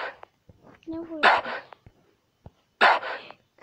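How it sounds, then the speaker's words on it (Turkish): A few short, sharp dog barks in Minecraft in quick bursts, separated by quieter stretches with faint clicks and small sounds. "Köpek. Gerçekten köpekler çok."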